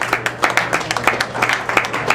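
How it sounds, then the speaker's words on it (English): Applause from the audience at a live music show at the Green Door, quick uneven clapping from a small crowd, loud and close and briefly sustained. "Give yourselves a round of applause."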